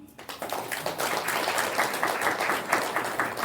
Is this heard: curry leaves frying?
no